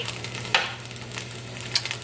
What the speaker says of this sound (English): you're going to saute these until they're about golden brown